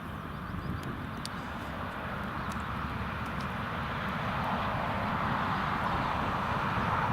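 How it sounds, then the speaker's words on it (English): Tomjet airplane landing at Newcastle Airport, a distant steady jet engine rumble with broadband roar that slowly grows a little louder, heard from outside with no voices. "that's a Tomjet cleared to land"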